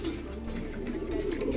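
Speedbird breeder racing pigeons coo softly and continuously, a low warbling murmur from several birds held steady throughout.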